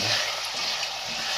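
Sugar and water stirred together in a pan to make syrup for makhaddi halwa, a continuous close hissing, sizzling wash with faint stirring underneath, no speech.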